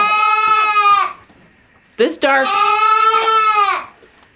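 Goats in a dark barn let out two long, loud, wavering bleats close by, with a brief snatch of a person speaking between them.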